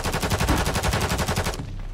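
Rapid, loud video game revolver gunfire in a fast regular rhythm, about a dozen close shots in quick succession, then stopping abruptly with a faint tail.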